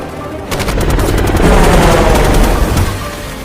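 Rapid bursts of loud helicopter gunfire rattle out over a heavy roaring rotor drone, the shots coming in quick repeated volleys.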